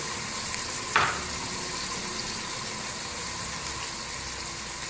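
Spices sizzle steadily in a pan of pumpkin curry as they are mixed in, a constant close frying hiss with one brief scrape of a spoon and no speech.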